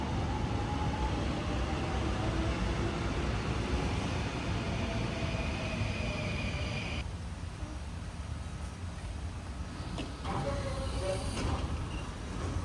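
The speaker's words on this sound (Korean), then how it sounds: "우와 열차다" A Seoul subway train roars and rumbles steadily nearby, its loud drone shifting and easing as it pulls into the station.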